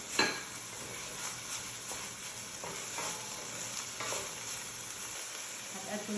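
Onion sautéing in a pan after chicken, with a constant soft sizzle and a few scraping stirs of a utensil against the pan, close and fairly quiet.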